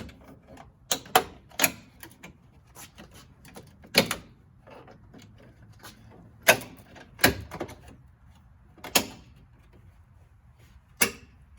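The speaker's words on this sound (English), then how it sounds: "using a pry removal tool and just kind of going around the edge of it on the outside and popping" A pry removal tool pops plastic trim off a Ford F150 bumper, giving sharp, close plastic snaps and clicks at irregular intervals over faint handling noise.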